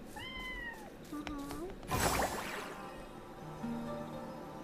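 Video game cat giving several meows, short rising and falling calls, with game music and a person talking in the background and a burst of noisy clatter midway.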